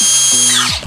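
A Bosch power tool drives bucket seat bolts with a loud, close, high-pitched whir that winds down and stops within a second.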